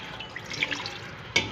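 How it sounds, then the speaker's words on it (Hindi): Half a cup of water is poured into a pan of chicken curry with chickpeas, a soft, light splashing trickle ending in a small sharper splash. "हाफ़ कप पानी डाल रही हूँ इसमें"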